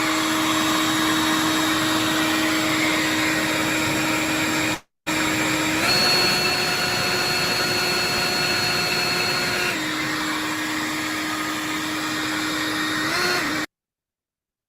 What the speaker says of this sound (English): Moving over, we have the Greenworks blower.